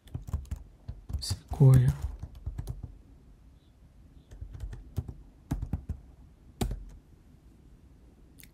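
Keys clack on a Mac computer keyboard as a search is typed, bursts of quick close clicks with short pauses, while a voice speaks briefly partway through.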